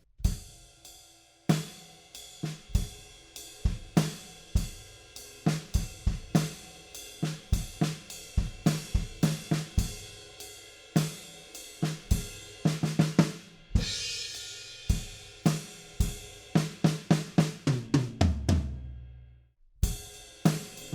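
A drum kit plays the opening bars of a song, with punchy kick and snare hits and busy fills in a driving rock pattern, a cymbal crash near the end, then fading out, close and solo.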